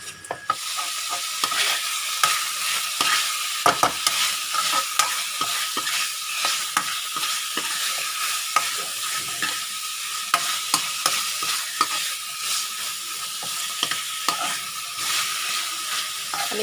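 Pork belly stir-fried in curry paste and shrimp paste for northern Thai kaeng ho, a constant bright sizzle with frequent spatula scrapes and taps against the pan, close and continuous without talk.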